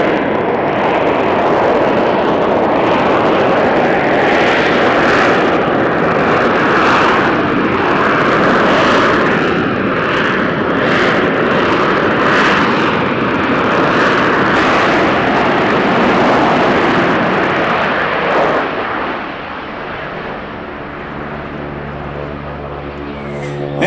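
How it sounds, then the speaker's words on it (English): An F-35 fighter jet at the 2019 MCAS Yuma airshow roars loudly overhead in a sustained, broadband jet rumble that swells and then fades to a lower, steadier drone near the end. "Look at how the F-35 is keeping the nose off."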